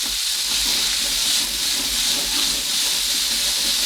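Vine tomatoes cooking in a little oil in a pan give a continuous bright hiss and sizzle, steady and close with no pauses.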